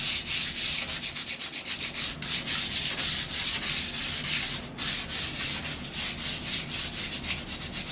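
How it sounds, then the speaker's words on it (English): Hand sanding during a kitchen renovation, a continuous gritty rasp rubbing back and forth in a steady rhythm of strokes, close and fairly loud with a short pause midway. "I'm all done with the sanding"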